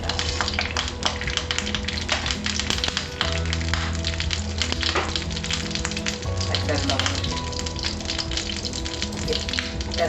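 Mustard seeds and curry leaves splutter in hot oil for a rasam tempering, a busy close crackle of rapid pops and sharp snaps over a continuous sizzle.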